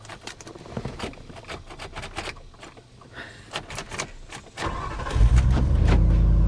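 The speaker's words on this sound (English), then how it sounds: "Let's just make sure one more time that it'll fire back up." A car engine cranks in a rapid, uneven patter of starter bursts, then swells into a loud, sustained low rumble for the final second or two. The sound is close and there is no talk.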